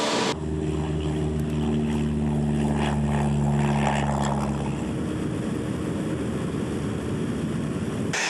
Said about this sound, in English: the aircraft will fly itself off the ground, and we are airborne